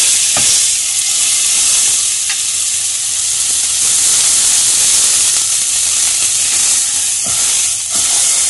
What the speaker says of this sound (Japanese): お肉の旨味が流れ出ないように表面をしっかり焼いておきましょう。